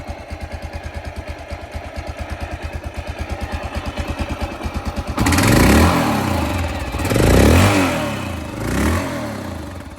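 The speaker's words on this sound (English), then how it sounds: "Much bigger engine, more displacement, more noise." An older, large-displacement motorcycle idles with a rapid, even chug, then the throttle is blipped several times, the engine roaring up and falling back.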